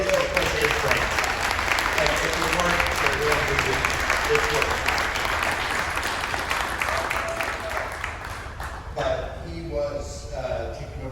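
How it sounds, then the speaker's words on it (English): A crowd at a 100th anniversary celebration breaks into sustained, dense applause for a person, the clapping steady and loud throughout, easing slightly near the end with a few voices rising. "please, a round of applause for Alex"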